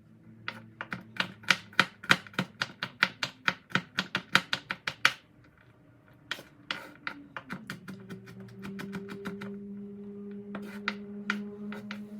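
A kitchen knife chops the brown tip off a peeled garlic clove on a cutting board. Two runs of quick, crisp, close taps are separated by a short pause, over a quiet steady hum.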